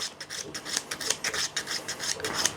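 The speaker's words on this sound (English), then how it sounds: "by sanding it, we're taking that ridge down" Close, rhythmic rasping of sandpaper rubbed back and forth over a plastic stegosaurus model, taking down a ridge, a quick series of short strokes with no talking.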